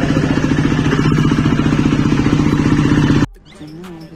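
A KTM Duke 390 with a loud modified exhaust and carbon tip revs close by with a rapid, crackling, throbbing bark for about three seconds, then cuts off sharply to a faint background hum.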